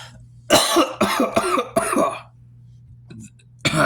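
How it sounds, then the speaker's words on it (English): A fit of harsh coughing, four or five hacking bursts in quick succession, then a pause and one more cough starting at the end. "I've gotten this stupid cough"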